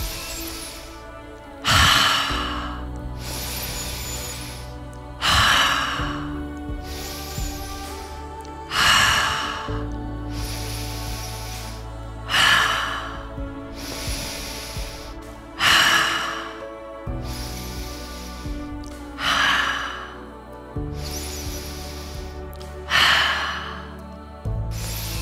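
Deep exhalations during a morning breathing exercise with wide arm movements, about ten strong rhythmic breaths every two to three seconds, close and loud over a low steady background hum.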